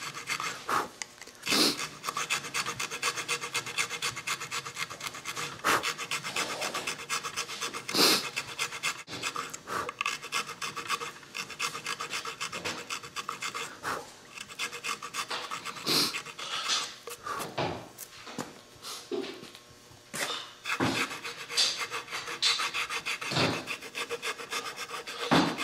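A rough file rasps across the wood of a guitar headstock in a workshop, repeated scraping strokes in an uneven rhythm, close and fairly steady throughout.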